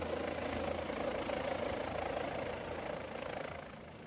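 A rescue helicopter lifting a child from a house during flash floods in southeastern Spain gives a steady, fairly quiet rotor and engine drone that holds throughout with no voices.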